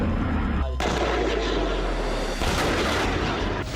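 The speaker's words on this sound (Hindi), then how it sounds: "खेरसोन में जबरदस्त आर्टिलरी प्रहार किया गया" Artillery fire in Kherson during the war: heavy, booming blasts close at hand, with sharp onsets near the start and midway through, followed by rumbling reverberation and continuous low noise.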